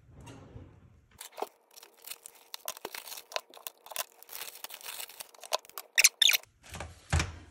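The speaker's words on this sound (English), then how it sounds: "Let's go ahead and get these out of the plastic." Plastic wrap is peeled and torn off album cases close up. Crinkling, crackling bursts and a few sharp rips come in uneven spurts, with a short loud tear near the end.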